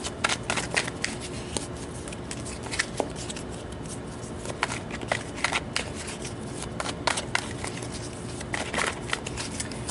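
Tarot cards are shuffled repeatedly, a crisp riffling and flicking that comes in quick irregular bursts, close up and fairly quiet, with no talking.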